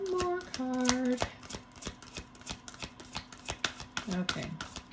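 Tarot cards shuffled by hand, a quick crisp riffle followed by a steady run of soft flicking and tapping strokes, close and fairly quiet, with a few brief voiced sounds mixed in.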